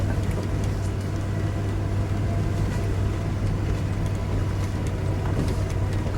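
A Ford Bronco drives in second gear with a constant loud, droning engine and road rumble inside the cab, with a steady low hum and no talk.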